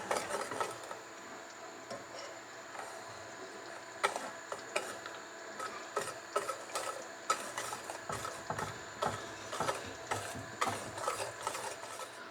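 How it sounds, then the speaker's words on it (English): A spoon or whisk stirs egg yolks in a bowl while a hot milk and cream mixture for vanilla ice cream is ladled in slowly, a close series of scraping, clinking strokes over a soft steady background. "we're just going to slowly ladle this into the egg yolk mixture while stirring"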